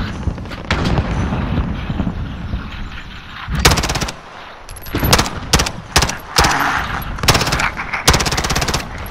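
Warzone video game gunfire: loud rapid automatic bursts and scattered shots crack out repeatedly over a busy game soundscape, with several sharp volleys clustered in the second half.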